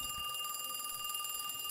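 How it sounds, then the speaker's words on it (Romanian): A telephone rings faintly in a pizza delivery video game, a thin electronic trill with steady repeating pulses, quiet and alone. "sună telefonul, ia, păzea"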